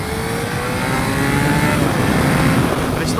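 A Honda FireBlade CBR954RR motorcycle engine revs in first gear while being ridden, with a loud, close, steady drone that climbs slightly in pitch, along with wind rush.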